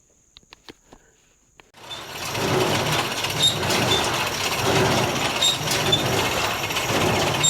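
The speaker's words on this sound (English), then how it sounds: "Squeaking pretty loud, but I think it's actually the wire on the pickups rubbing as it goes by." A square hay baler starts after a few faint clicks and then runs loudly and steadily nearby. Its mechanical clatter carries a persistent high squeak, said to come from the pickup wire rubbing, with no talking over it.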